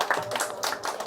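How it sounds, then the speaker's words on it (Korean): Brief scattered clapping from an audience at a real estate lecture in a hall, a handful of claps over about a second, moderately loud with no talking. "박수 쳐드리세요."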